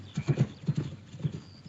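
Horse hooves clip-clop in a quick uneven rhythm, several close, distinct knocks from a 1948 film soundtrack, with no talk over them.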